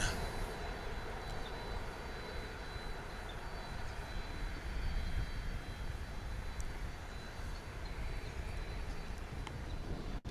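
An Airbus A321 airliner at DFW International Airport gives a steady, broad engine roar heard from a distance, holding level throughout with a slight swell midway; no talking.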